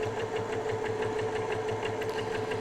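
A sewing machine stitching a tote bag, a fast, steady, mechanical rhythmic whirring and knocking heard close and alone.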